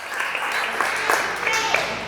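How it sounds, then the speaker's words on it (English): Audience applause at a talk on raising resilient, confident teens, a moderate round of clapping from a seated crowd, fairly even with a few sharper claps standing out. "So give him a round of applause."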